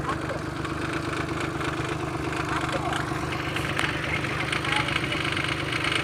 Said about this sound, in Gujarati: નીલમને ટ્રેક્ટર આવડતું નથી તો એ શીખે છે